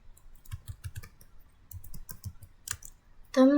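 Keys clack on a computer keyboard in two short bursts of quick taps as a system routing command is entered, the strokes close and crisp with a brief louder tone at the end.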